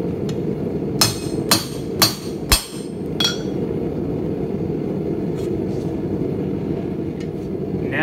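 Hammer blows on hot steel while forging an arm-and-hammer bottle opener, five sharp ringing strikes about half a second apart, then a steady low hum with a few faint taps.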